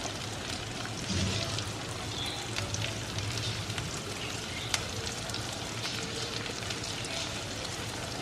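Thinly sliced onions and two slit green chillies fry in a pan for a paneer curry, giving a steady, dense sizzle with scattered crackles and a sharp pop near the middle.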